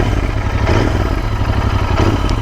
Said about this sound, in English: You only hear the engine sound,